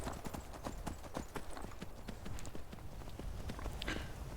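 Horse hooves clip-clop in a steady, quick walking rhythm throughout, fairly close, with a faint low background bed and a brief higher whinny-like tone near the end; from a fantasy role-playing video game.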